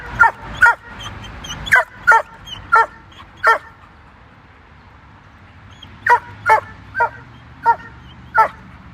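Several dogs give short yipping barks and whimpers in two rhythmic bursts, a run of about seven sharp calls, a pause, then six more, fairly close and with no talk over them.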